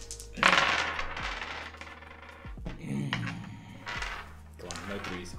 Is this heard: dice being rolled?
yes